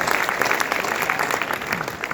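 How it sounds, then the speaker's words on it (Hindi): An audience breaks into steady applause, many hands clapping together in a dense, continuous wash that holds at an even level for about two seconds. "बजा लो अपनी की ताली।"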